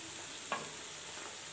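Onions fry in a pan of oil for an achari mixed vegetable dish, giving a faint steady sizzle with one short scrape of stirring partway through, no voices.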